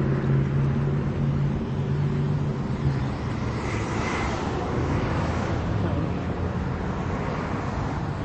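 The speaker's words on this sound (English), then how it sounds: "Sorry about the traffic." Busy road traffic on a street a person is trying to cross, a loud, steady roar of passing cars that fills the whole clip without a break.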